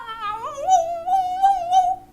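A man on an Eid podcast imitates a dog with his voice, giving a few drawn-out, whiny vocal yelps and howl-like calls, close and fairly loud, with no other talk over them.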